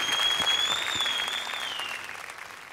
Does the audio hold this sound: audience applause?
yes